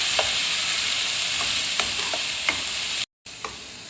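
A spoon stirs and scrapes potato patty filling mixed with soy sauce in a hot pan, sharp clicks and scrapes over a low sizzle, with a brief dropout near the end.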